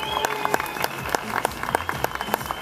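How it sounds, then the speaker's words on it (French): Audience applauding at a bodybuilding show after the plus-size bikini category; a moderate crowd claps steadily with several sharp, distinct individual claps standing out near the front. "On les applaudit."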